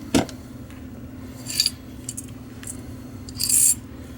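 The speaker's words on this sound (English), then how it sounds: "And now the frame will slide easily off the slide." Steel parts of a USGI 1911A1 pistol clink and scrape as the frame slides off the slide, a sharp metallic tick followed by short grating metal-on-metal slides, close and clear with quiet gaps between.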